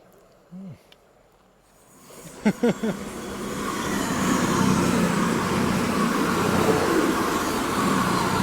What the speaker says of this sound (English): Oh, big train.